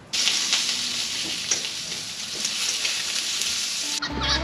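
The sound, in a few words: food frying on a barbecue while cooking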